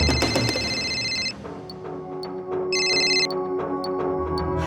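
An electronic phone ringtone trills in two bursts with a short pause between, fairly loud and close, over faint background noise.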